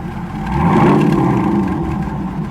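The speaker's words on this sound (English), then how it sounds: "Custom exhaust. Rev it up" A supercharged Lamborghini Aventador replica engine revs up through a custom exhaust and holds, a deep throaty roar swelling then easing slightly, close and loud.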